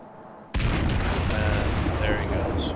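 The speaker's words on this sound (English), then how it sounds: "he is going to start taking some shots at this enemy destroyer" A sudden heavy boom of warship guns firing on an enemy destroyer in the naval combat game World of Warships, followed by a sustained rumbling roar, loud and close, with faint game sounds on top.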